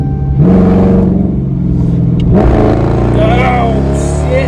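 A Dodge Charger R/T does a burnout, the engine revving in loud bursts with a rising whine, a brief dip, then another climbing rev, close and dominant.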